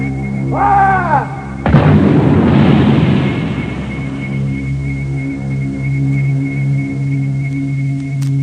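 A firing squad regiment fires a rifle volley as one loud, reverberating blast that fades into a long rumbling tail over a steady low hum, after a brief rising tonal sound.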